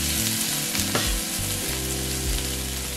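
Curry leaves temper in hot oil, giving a steady, dense sizzle and crackle that runs throughout, with occasional spatter pops and no voices.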